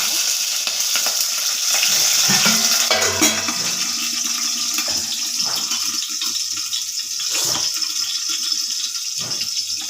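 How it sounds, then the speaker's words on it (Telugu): Green chilies dropped into hot oil with cumin seeds give a steady, close sizzle and crackle that carries on alone throughout, with a few stirring scrapes and brief bursts of spattering along the way. "ఆయిల్ వేడైంది. ఇప్పుడు పచ్చిమిర్చి వేసుకున్నాను."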